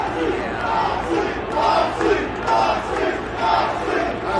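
A large wrestling event crowd of over a thousand roars and chants in rhythmic, pulsing waves, loud and sustained, with no single voice standing out.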